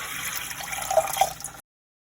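Four cups of water pour steadily into a pot for elderberry gummies, a close, continuous splashing rush that stops abruptly partway through.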